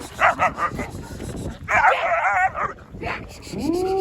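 Several short dog barks and yips close by on a farm, followed by a whimpering whine near the end, with brief human voices mixed in.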